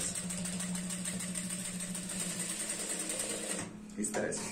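A sewing machine stitches the waistband of a pair of pants, a steady close rapid mechanical whirring that runs almost throughout and then briefly slows, while someone talks over it.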